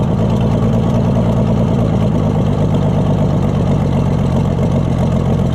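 A scrapyard Oliver Super 77 tractor engine runs at a loud, steady idle close by, its low rhythmic chugging unbroken and even throughout.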